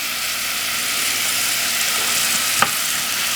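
Onion sizzles in two tablespoons of oil over medium heat, a close, steady bright hiss throughout, with one sharp clack near the end.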